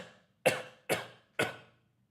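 Three distinct coughs in quick succession, evenly spaced about half a second apart, close and moderately loud against near silence.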